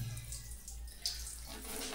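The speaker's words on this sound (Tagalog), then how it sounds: "Hot water to. Hot shower." Hot shower water running steadily, a continuous hissing spray with a faint low hum under it and no voices.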